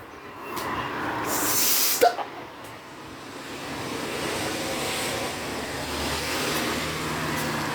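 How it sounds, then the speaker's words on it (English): Cars driving past on a road outside, a broad rushing swell of tire and engine noise that rises and fades, with another vehicle building toward the end and a brief sharp knock midway. "I'm just going to let the cars drive past"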